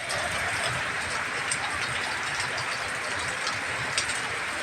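Steady rain falls during a dark, stormy day, a dense continuous hiss with scattered drop patter, fairly loud and unbroken, with no talk.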